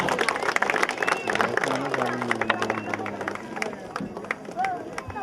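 Audience at a teacher's speech event clapping and applauding, a dense burst of many hands that tapers off over a few seconds, with voices talking over it.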